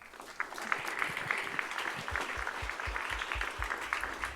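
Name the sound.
congregation applauding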